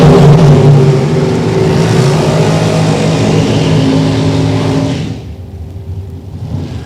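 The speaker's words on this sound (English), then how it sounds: "Now he's going to make a run in this Corvette." A Corvette makes a drag racing run, its engine roaring loud and sustained under full throttle before the sound drops off sharply as it pulls away into the distance.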